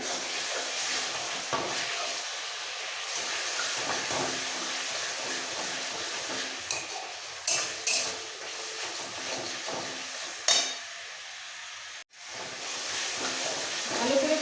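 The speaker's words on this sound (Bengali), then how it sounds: "সব কিছু দেওয়া হয়ে গেলে এবার খুব ভালো করে কষাতে হবে" Soybean and potato curry sizzles and hisses steadily in a hot pan while being stir-fried, with occasional scraping stirs and clatters throughout.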